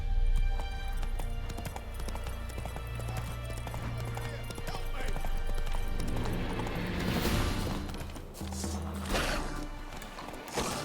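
Roach, a horse in the video game The Witcher 3, gallops with a rapid, steady clip-clop of hooves amid game effects and music, with a brief whinny and a voice speaking partway through.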